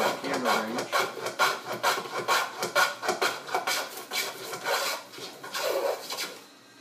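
Stanley 72 chamfer plane cutting a chamfer along a wooden workpiece, a steady series of close, rasping shaving strokes with brief pauses between passes, working back from the far end of the cut.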